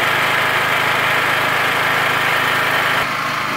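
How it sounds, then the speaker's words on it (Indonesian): Petrol genset running steadily while powering a gasless MIG/MMA/TIG 160A welder, a loud, even engine drone close by that drops slightly in level near the end. "Gensetnya juga halus suaranya."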